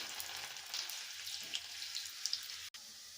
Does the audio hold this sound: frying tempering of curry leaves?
yes